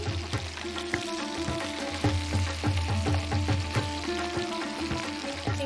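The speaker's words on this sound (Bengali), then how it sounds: "চিংড়ি মাছটা মোটামুটি ভাজা হয়ে গেছে" Prawns fry in hot oil in a pan, giving a steady close sizzle broken by regular clanks and scrapes of stirring, with no talk over it.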